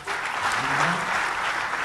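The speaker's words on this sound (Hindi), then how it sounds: "जोरदार तालियों के साथ" An audience at a stage event gives a steady burst of applause to welcome a Padma Bhushan singer, a dense, even wash of many hands clapping throughout.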